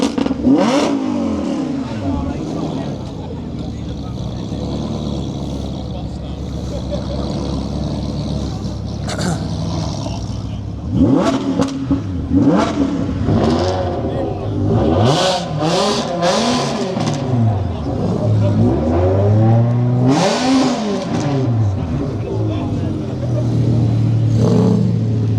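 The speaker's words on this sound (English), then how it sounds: "Cars are going." Cars leave a Cars & Coffee meet in Chester one after another, engines revving and accelerating away in repeated loud rising sweeps. Voices talk over the steady traffic noise.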